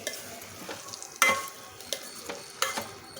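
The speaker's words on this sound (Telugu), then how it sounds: "నేను కలుపుతూ ఉన్నాను మధ్య మధ్యలో" A spoon scrapes and stirs a ridge gourd and chana dal curry in a pan, with a few louder scrapes against the pan among softer, quiet stirring. No one speaks.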